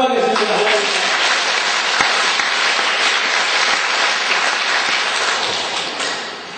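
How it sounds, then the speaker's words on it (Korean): Church congregation clapping in thanks during an evangelism lecture, loud dense applause that holds steady and fades slightly toward the end. "우리 감사 박수 하겠습니다"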